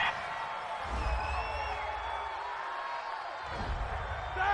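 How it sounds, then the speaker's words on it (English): The Seattle home crowd at an NFL game against the Pittsburgh Steelers cheers and whoops after a pass interference call, a broad, sustained roar from a distance that swells near the end, with no talk over it. "This home crowd, they're happy with that call."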